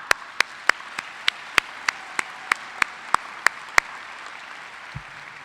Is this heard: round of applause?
yes